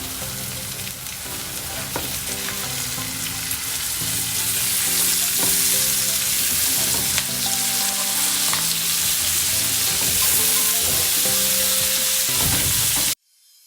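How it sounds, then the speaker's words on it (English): Shrimp fry with garlic in a pan, giving a loud, continuous sizzle heard close up with faint stirring clicks, then cutting off abruptly at the end. "Now we're gonna add the shrimp."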